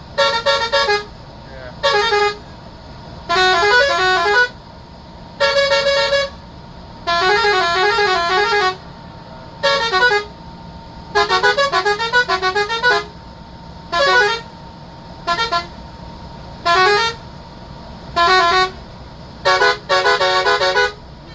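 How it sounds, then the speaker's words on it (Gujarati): A Nav Alankar Travels five-star bus sounds a series of different musical horns one after another, loud and close, each tooting burst a distinct melodic pattern separated by short gaps over a low engine rumble. "આ પહેલો હોર્ન, બીજો હોર્ન, ત્રીજો હોર્ન, ચોથો હોર્ન"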